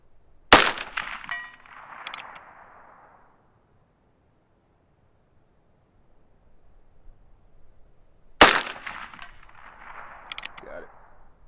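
Two loud, sharp gunshots from a scoped Heritage Rough Rider Rancher revolver fired outdoors at a range, about eight seconds apart, each followed by a rolling echo that fades into quiet.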